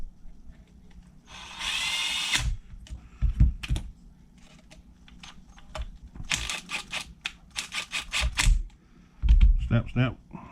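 A power tool drives in four screws during a hobby repair session, giving several short, close whirring bursts with a clicking spindown between them. Someone talks quietly in the gaps.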